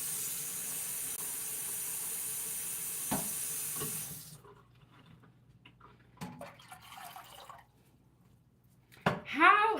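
A pot of water for oatmeal heats on a stove, giving a steady broadband hiss for about four seconds that then drops away, leaving faint bubbling, clinks and a few brief sharp knocks close by.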